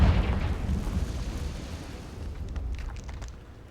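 A Confringo blasting spell from Hogwarts Legacy lands in a cave with a heavy, deep boom, then a rumbling tail that slowly fades, with a few small crackling bits of debris near the end.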